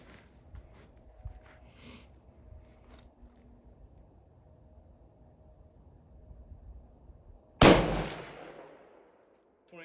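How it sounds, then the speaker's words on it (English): A .338-06 rifle fires once at a shooting range: a single loud, sharp report late in the clip with a decaying tail, after quiet background with faint handling noise. "All right, let's shoot number 4 here."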